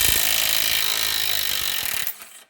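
A DeWalt Atomic impact wrench hammers steadily at a rusty ball joint bolt on a 2011 Subaru Legacy, a close, loud rattling burst lasting about two seconds before cutting off abruptly.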